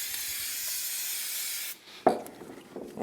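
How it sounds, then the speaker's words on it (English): PJ1 cleaner spray hisses steadily onto a foam air filter element from a Yamaha Grizzly YFM700 ATV for almost two seconds, then cuts off, followed by a short clack and a brief second burst. "start using some of that PJ1 spray. And we're going to spray it on both sides of the element."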